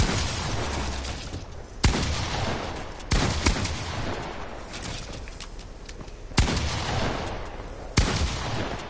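Video game gunfire crackles in dense, continuous bursts, with several sharp louder shots standing out at intervals over a steady roar of shooting, loud and close, and no talking heard.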